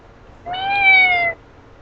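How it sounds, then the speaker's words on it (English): A cat gives a single clear meow, close and fairly loud, rising then falling over about a second against a quiet background. "I looked down to see Snuffles pressing herself up against my skin, meowing at me."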